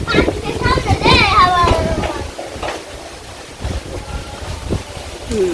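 Strong wind before a rainstorm rumbles and buffets across the microphone in gusts in a village while a person talks and children's voices rise in the background.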